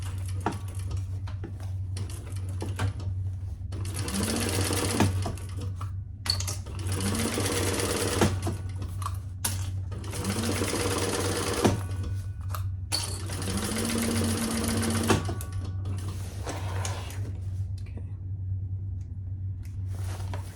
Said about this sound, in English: And then we'll top stitch.